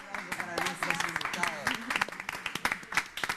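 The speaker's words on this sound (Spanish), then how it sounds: "Un aplauso para ustedes." Studio audience clapping on the Peruvian TV show Bien por Casa, with scattered sharp hand claps running under a presenter's continuous talking.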